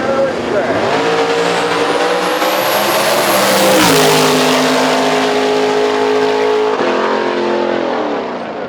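A drag race car launches and accelerates hard up the inside of the track in a radial qualifying session, its loud, steady engine roar rising in pitch for several seconds and then shifting as it pulls away, with a commentator talking over it.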